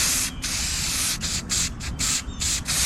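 Aerosol spray paint hissing onto a costume in red, in repeated close bursts with short pauses between them and no talk.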